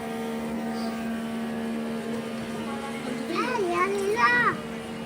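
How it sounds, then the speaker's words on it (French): Rotor blades of the Ingenuity Mars helicopter spin at about 2700 rpm, giving a steady, even droning hum throughout, with brief, higher voice-like sounds rising over it near the end. "vous avez le bruit des hélices à cette vitesse"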